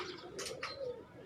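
Pigeons coo softly on a rooftop in Sheikhupura, a couple of low murmuring calls with faint higher chirps over quiet background.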